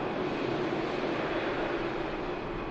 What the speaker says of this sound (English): Emirates Airbus A380 on a departure. Heading out to Dubai.